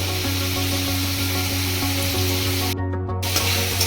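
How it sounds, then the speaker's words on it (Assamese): Chicken frying in a pan for an Assamese home-style chicken curry, a steady close sizzle with a low hum running throughout and a brief dip partway through. "চিকেনখিনি দি মই ভালদৰে 5 মিনিটমান ভাজিম"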